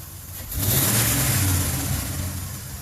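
A 2003 Dodge Ram 1500 with a 4.7 engine and cylinder-two misfires revs up as the gas is pressed, a rough, loud mid-pitched roar that holds and slowly eases back.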